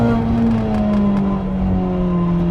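Sports car on a race track, either a Mazda MX-5 or a Mini Cooper JCW, with the engine droning loudly from inside the cabin as it pulls away around 3000 rpm, pitch holding steady then easing slightly.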